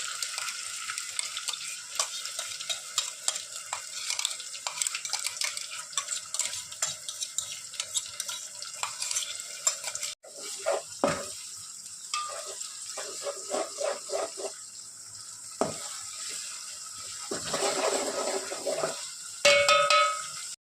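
Ginger-garlic paste and onion paste sizzle steadily in a hot pan while being stirred, with scraping strokes and brief pauses in the frying for a Banjara saloi dish, no voices present.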